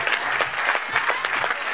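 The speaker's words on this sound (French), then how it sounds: "Applaudissez les enfants" Audience applauding the children at a sports club champions' gala, a burst of dense clapping from a crowd, fairly close and lively throughout the short moment.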